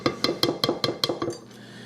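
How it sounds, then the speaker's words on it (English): Metal baking pans for a fruitcake clatter against each other in a quick run of about seven sharp, ringing clanks, close and bright, tapering off into a few quieter knocks. "Alright, now I've got my pan here."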